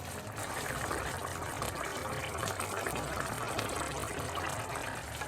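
Water is poured into a pot of rice for plov, cooked on fat-tail mutton fat instead of vegetable oil: a continuous, even gushing pour fills the whole clip at moderate level, with no clear talking.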